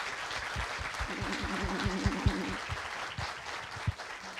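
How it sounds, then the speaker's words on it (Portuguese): An audience claps together at a Brazilian talk-show taping, a steady dense patter of hands filling a few seconds at moderate loudness, with a voice briefly speaking over it partway through. "Salva de palmas."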